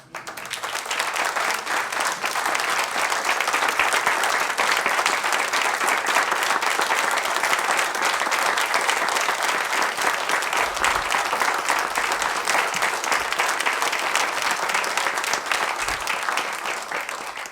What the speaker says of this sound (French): Je voudrais qu'on puisse les acclamer et se lever.